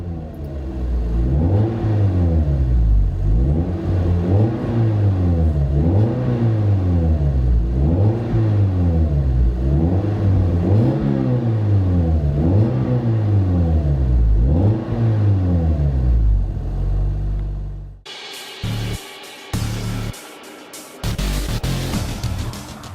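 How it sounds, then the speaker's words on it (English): A 2004 Scion xB fitted with a Street Demon catback exhaust revs repeatedly in a steady rising-and-falling cycle, loud and close, for about eighteen seconds before the engine note cuts off into brief choppy sounds. "Interior tone level is moderate with this Street Demon Performance catback exhaust."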